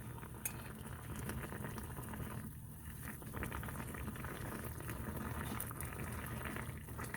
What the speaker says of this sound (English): this is the reason that you allow for your meat to boil on high